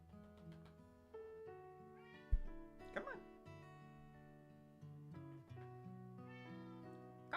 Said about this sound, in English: Don't just sit down there meowing at me.